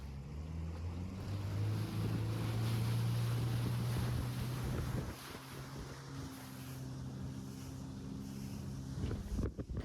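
A motorboat's engine drones over wind buffeting the microphone at Bakota, the engine steady then shifting pitch as it continues on the water.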